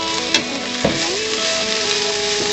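Onions frying in a pan for shakshuka, a loud steady sizzle with a few scraping knocks as they are stirred, and a faint tonal hum running underneath.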